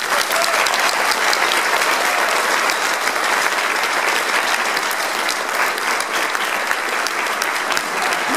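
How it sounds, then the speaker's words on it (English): A show audience gives a loud, dense round of applause, with continuous clapping that holds steady throughout. "So give her a round of applause, please."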